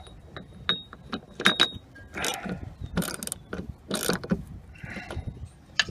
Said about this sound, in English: Find my wrench here. My ratchet, I should say.